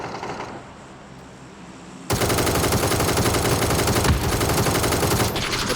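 Automatic gunfire in a first-person shooter video game: after a quieter start, a sudden loud, sustained burst of rapid shots runs through to the end.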